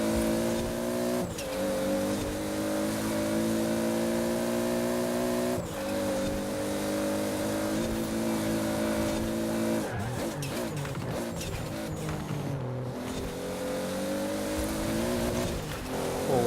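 Toyota Supra RZ in the Forza Horizon 4 racing game, its engine droning steadily at high revs, then dropping through downshifts with sharp pitch changes before climbing again, loud and continuous with no talk.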